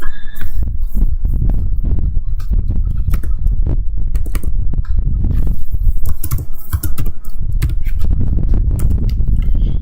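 Rapid, continuous typing on a computer keyboard while working in R Studio, close and loud, with dense overlapping key clicks running throughout.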